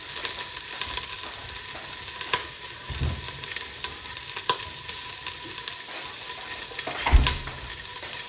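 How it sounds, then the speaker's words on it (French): Onions and garlic sautéing in butter and oil in a pan, a steady close sizzle with occasional louder scrapes or stirs; no one talks. "je vais faire rissoler mes oignons et mon ail"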